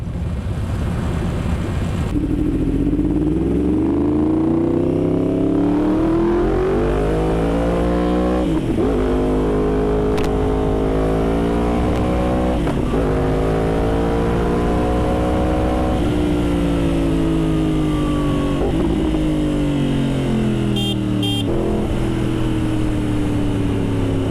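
Yamaha R1 sport motorcycle engine revs and accelerates hard through gears with auto-blipper shifts, each upshift a quick dip before the whine climbs again, loud and close throughout without any voices.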